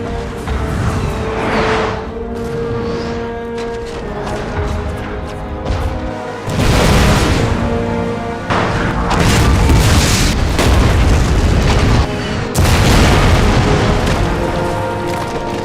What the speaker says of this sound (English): Admiral Seymour gave the order for the Royal Navy to bombard the Egyptian gun emplacements at Alexandria.